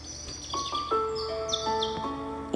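Several birds chirp and tweet nearby, bright short whistled calls overlapping one another in a lively outdoor chorus.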